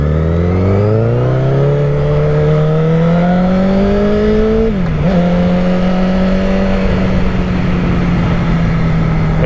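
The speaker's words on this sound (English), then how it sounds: "The M4 looks nice and sleek, very low profile, but makes an excellent sound." A 2014 Honda CBR1000RR 1000cc sportbike fitted with an M4 aftermarket exhaust revs loud and close, its engine note climbing steadily for several seconds, dipping briefly, then holding a steady high drone.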